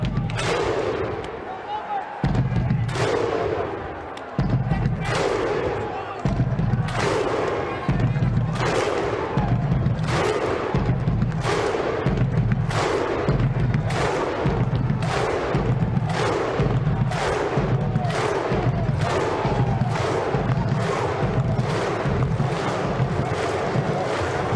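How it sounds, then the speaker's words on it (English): A stadium crowd in the Rugby League Live 4 video game performs the Viking clap, sharp unison claps booming at a slow, steady, accelerating rhythm, each followed by a deep collective grunt, loud and close over ongoing crowd noise. "You gotta love that Viking clap."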